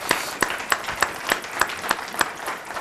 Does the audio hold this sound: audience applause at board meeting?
yes